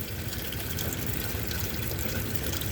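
Water draining steadily from the valve of a Richmond/Rheem hot water heater, a continuous rushing trickle that stays even throughout, fairly loud and close, with no voices.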